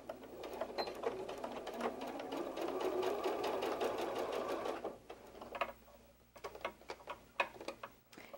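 A sewing machine stitches a seam across fabric for a fox softie, running in a fast, even ticking rhythm for about five seconds, then stopping and restarting in short, close bursts.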